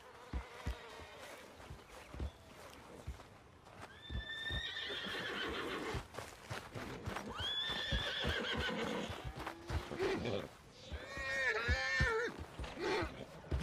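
In the Red Dead Redemption video game, a horse whinnies several times, spaced over about fourteen seconds, with hoof clip-clops and faint buzzing insects in the background.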